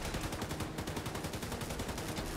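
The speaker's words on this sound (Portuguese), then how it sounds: "Entendido. Atirando." Rapid, steady automatic gunfire in the video game Tom Clancy's The Division 2, a continuous close burst of evenly spaced shots lasting the whole moment.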